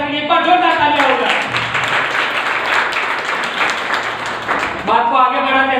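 Audience in a hall bursts into loud, sustained clapping, dense and even for several seconds, with a voice speaking over the start and end of the applause.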